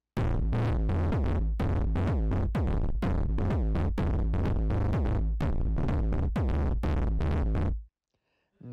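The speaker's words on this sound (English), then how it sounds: "So for a house music track, you're going to want your kick drum playing" House music drum pattern with a steady kick drum playing four on the floor, four kicks per bar. The kicks are loud and evenly spaced in a dense, driving loop that runs for about eight seconds, then cuts out.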